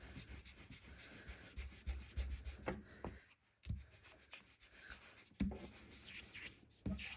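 Distress Oxide ink pad rubbed over heat-embossed paper, soft scratchy strokes in uneven bursts with short pauses, close and quiet with no talking.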